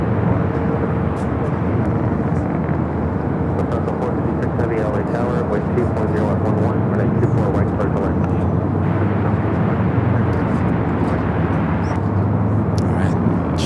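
An airliner arrives to land on runway 24 right at Los Angeles airport, giving a steady, loud, broad engine rumble with scattered clicks and a low voice murmuring beneath.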